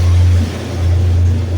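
A motorcycle engine idles with a strong steady low hum and a slight dip in loudness partway through, close and loud, with no talk.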